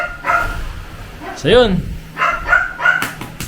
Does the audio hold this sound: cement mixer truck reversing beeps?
no